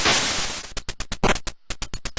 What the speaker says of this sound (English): it's basically just white noise that they kind of pitch up and down